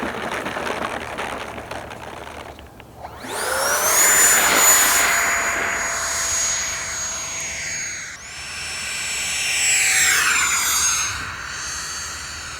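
An E-Flite Habu SS 70mm electric ducted-fan model jet flies past, its loud whining turbine-like scream rising sharply, holding steady, dipping briefly and swelling again with Doppler pitch shifts, near and strong throughout.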